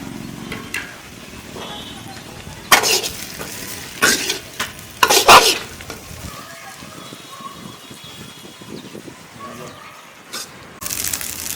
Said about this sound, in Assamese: এইবাৰ আমি ভাজি থোৱা চিকেনখিনি দি দিলোঁ।